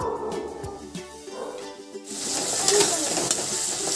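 Onions and masala fry in a pan for a vegetable curry. A quieter, uneven start gives way halfway through to a loud, close, continuous sizzle.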